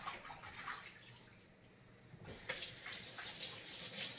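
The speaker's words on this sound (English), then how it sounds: "So let me wash my hands." Tap water runs steadily over hands at a kitchen sink during vegetable preparation, a close continuous splashing hiss that brightens and grows fuller partway through, with no voices.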